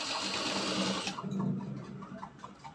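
A sewing machine stitches a neckband onto a blouse, running in a steady close whir for about a second before stopping and leaving only quiet room sound.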